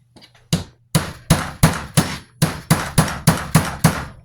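A heavier hammer taps a punch into a PSA Dagger Compact pistol during reassembly: about eleven sharp metallic strikes in a steady rhythm, close and loud, with a faint hum between blows.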